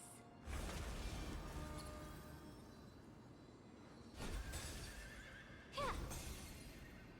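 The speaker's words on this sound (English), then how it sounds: "I didn't know you could hear the horse sound and the little chess piece around her" A horse neighs and whinnies in the Honkai Star Rail video game, several whinnies spread across the clip with faint hoof clops, set against a steady game ambience.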